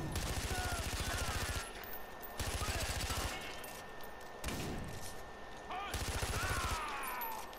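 SMG gunfire in the Far Cry 4 video game comes in four rapid bursts of automatic fire, each a second or so long and separated by short gaps, loud and close.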